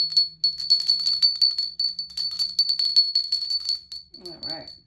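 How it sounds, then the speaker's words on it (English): A small metal bell decorated with a cardinal is rung indoors, giving a bright sustained high tinkle with repeated rhythmic shakes for several seconds, then a brief voice at the end. "Look at how beautiful this bell is. I love this bell."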